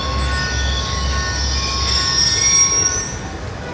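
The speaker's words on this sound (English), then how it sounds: "Ain't getting anything else with that train in the way." Train wheels squeal loudly and steadily as a train passes close by in Call of Duty Black Ops II, set in Punjab, Pakistan, with a low rumble underneath and a rising metallic screech near the end.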